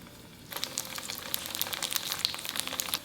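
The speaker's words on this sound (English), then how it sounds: "Pan fry until golden brown for about 2 minutes." Dumpling wrapper pancakes fry in avocado oil in a pan over medium-high heat, a steady crackling sizzle with popping spatters that starts abruptly and continues without talk.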